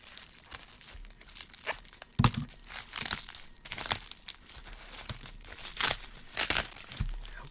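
A mailed package of silver bullion being unwrapped by hand, with close, loud bursts of crinkling and tearing wrapping material in irregular rhythm and no talking.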